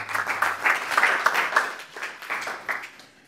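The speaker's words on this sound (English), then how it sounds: "Give him a little applause." A small audience gives brief, scattered applause for a guest during a talk, a handful of distinct claps rising and falling, fairly close and tapering off at the end.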